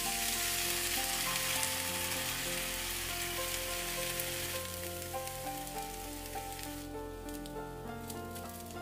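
Shredded cabbage, egg and scallion fry in melted butter in a well-heated pan for a cabbage egg roll, a dense, steady hiss and crackle that stays loud throughout with no talking.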